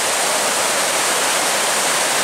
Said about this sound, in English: Check out this waterfall, though, that he's standing right alongside of.